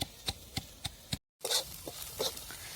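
Green chilies are pounded with a pestle in steady, evenly spaced dull thuds about every quarter second, close and moderately loud, breaking off briefly before resuming with softer, irregular knocks.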